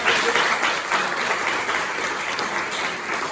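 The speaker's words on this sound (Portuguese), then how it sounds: "Uma salva de palmas para Deus." A church congregation claps together in sustained applause, a dense, steady wash of hands that stays loud and even throughout with no talk over it.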